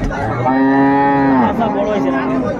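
A cow at Ambari cattle market in Dinajpur gives one loud, close, drawn-out moo that falls in pitch and trails off, over a low background murmur.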